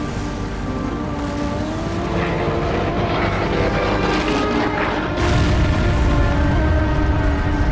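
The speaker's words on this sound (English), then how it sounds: "we watch a handful of planes dance around in the sky dogfighting" Propeller warplanes circle and dogfight overhead in a WWII coastal battle in Call of Duty 2, a steady loud engine drone with rumbling booms, swelling louder near the end.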